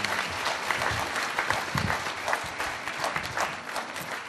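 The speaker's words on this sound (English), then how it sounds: "Let us give them a big round of applause." An audience at a counselling conference applauds the sign language interpreters, a dense, steady round of clapping from many hands that holds for several seconds without a break.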